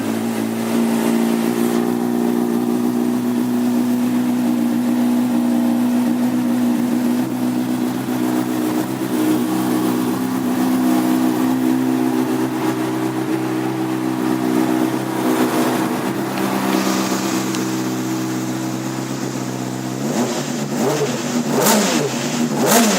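A 2011 Honda CBR600RR motorcycle engine idles with a steady, loud hum close by, then revs near the end in a few quick rising bursts.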